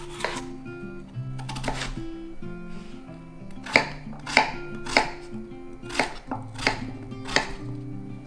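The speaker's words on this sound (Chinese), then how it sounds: "把它削皮，切成小块状" A knife chops a peeled potato into small pieces on a board for a vegan mushroom soup: a run of sharp, close, irregular chops, some louder than others, over steady background music.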